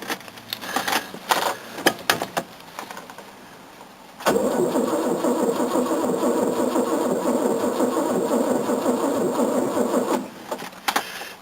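An old Mercedes engine in freezing weather, around 4 degrees Celsius, cranks sluggishly and catches, then settles into a loud, steady rough idle close by, with some handling noises before and the engine cutting off near the end.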